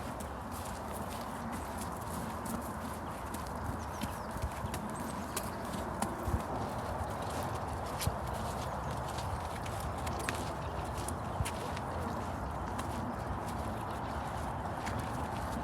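A wild horse in training walks, hooves clip-clopping at a steady pace on firm ground, soft and evenly spaced, with no talking.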